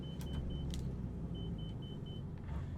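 Cubcrafters MonsterNX bush plane in Microsoft Flight Simulator 2020 holds a steady, loud engine drone with low rumble throughout, a faint high tone running beneath, no talking.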